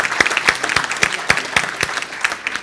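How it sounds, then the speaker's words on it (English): Audience applause for Jim at a personal and business performance seminar, a crowd clapping steadily with sharp, distinct claps standing out, fairly close and moderately loud, no talking over it. "let's clap for Jim"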